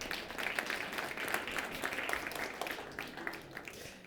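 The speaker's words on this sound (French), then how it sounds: "On applaudit nos partenaires." Audience at the MTL Tech Awards applauding the event's partners, a steady wash of clapping throughout, moderately distant and fairly quiet.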